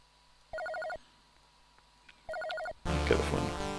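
A Commodore 64 game's telephone rings as two short bursts of electronic trilling, followed by a louder burst of harsher game sound, with no talk.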